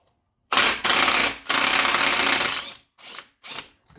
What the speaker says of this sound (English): Can't believe it needed an impact wrench